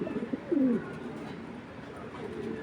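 Large pigeons in a breeder's loft give a short, soft coo near the start. Quiet low ambient noise continues for the rest of the clip.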